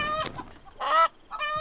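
Chickens cluck in a farming video game, three short bursts of bright, harmonic clucks and squawks separated by brief pauses, fairly close and clear with no talking.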